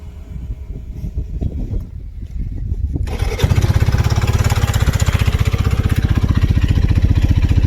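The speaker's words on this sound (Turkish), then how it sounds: "Kontağımızı bir çevirelim. Bir çalıştıralım motoru." An Rks Private 125 motorcycle engine cranks over a few seconds of rough mechanical noise, then catches at about three seconds and settles into a loud, close, steady idle with a rapid, even pulsing beat.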